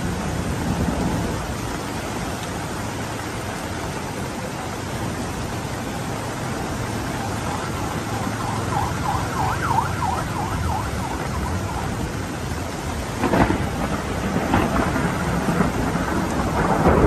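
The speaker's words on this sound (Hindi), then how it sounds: "बादल की आवाज़ आपको आ रही होगी।" Heavy rain pours steadily beside a river, a dense and constant hiss close by. Thunder rumbles beneath it and builds toward a louder roll near the end, and no one speaks.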